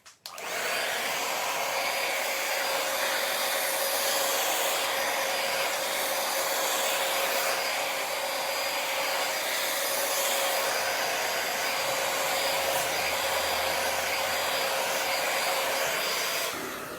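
A hair dryer blows steadily on a section of hair indoors, a loud, continuous whooshing roar with a fixed motor whine that runs unbroken throughout, with no talking.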